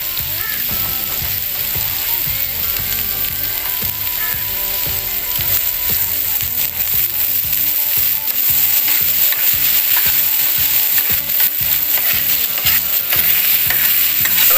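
Red chili masala for tawa kaleji fries and is stirred on a hot griddle, giving a steady loud sizzle with constant scraping and clicking of the spatula throughout, and no voices.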